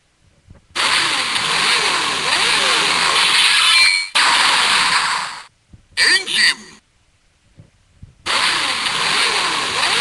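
A capsule toy Engine Memory plays its electronic engine sound effect in harsh, bright bursts that start and stop abruptly, with a short gap between, recorded close up.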